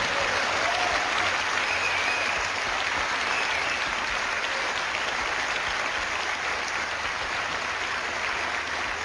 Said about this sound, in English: please give Helen a big round of applause